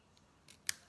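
Scissors cut off a small, bulky bit of craft material. There are a couple of soft, quick snips, the last one sharper, quiet and close, with no speech.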